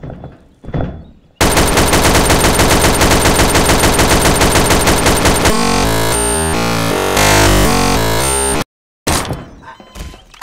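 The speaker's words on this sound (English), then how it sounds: "You clearly saw I was shooting." Rapid machine gun fire rattles out in Garry's Mod, a long loud burst of evenly spaced shots that shifts into a heavier, rougher volley before cutting off, with a few scattered thumps around it and no speech.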